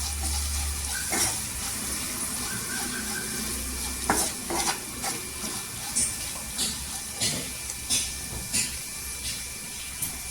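A spoon stirs dry potato bhaji seasoned with salt, asafoetida and turmeric in a pan, scraping and clinking in a steady series of soft strokes over a faint sizzle, close by and fairly quiet.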